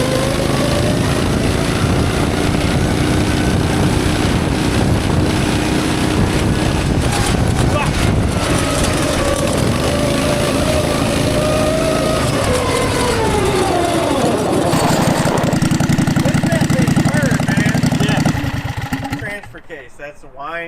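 Loud whining drone from a four-wheel-drive go kart with a Predator 670 V-twin and a noisy transfer case, engine pitch rising and falling steadily, with wind buffeting throughout before dropping off at the end.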